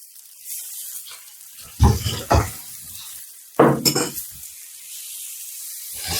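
Butter sizzles in a frying pan with searing meat, a steady soft hiss broken by two louder bursts of crackling and pan clatter as it is stirred in, with no talking.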